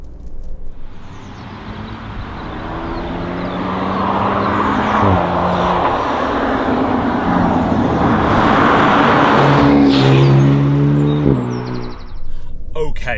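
Maserati Grecale Trofeo SUV driving in sport mode, a steady engine and road drone that swells gradually with rising revs and shifting tones, continuous throughout under faint background chirps.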